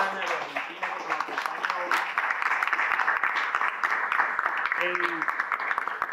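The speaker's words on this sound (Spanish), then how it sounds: "vamos a darle un aplauso a esta delegación venezolana y argentina" Audience applause for visiting Venezuelan and Argentine delegations at a children's literature colloquium fills the room with steady clapping for several seconds, and a voice speaks over it near the start and again near the end.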